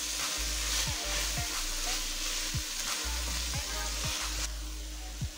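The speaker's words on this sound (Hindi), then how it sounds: "गोभी को भी इसके अंदर अच्छी तरह फ्राई करेंगे।" Cauliflower and mixed vegetables sizzle steadily in a pan for veg fried rice, a loud continuous hiss broken by repeated scraping stirs, close up with no talking.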